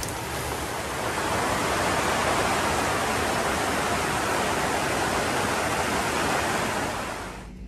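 Heavy rain pours down over a boat mooring field at Fort Myers Beach, a dense, even roar that swells in and stays constant before fading out at the end.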